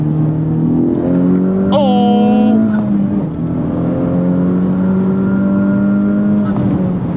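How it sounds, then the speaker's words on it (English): A Stage 2 tuned 2021 Honda Civic Type R accelerates hard at full throttle past a bus. Its engine note climbs loudly and steadily with a sharp rev spike partway through. "I need to floor it past this bus here."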